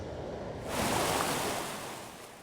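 Water pours out of the Tahoe City Dam into the Truckee River at about 2,000 cubic feet per second, a dense steady roar that swells in the middle and stays constant without voices.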